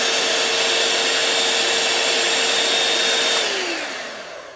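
A Redmond HM012 five-speed hand mixer runs in turbo mode with a loud, steady high-pitched whine close by, then winds down near the end as the motor slows.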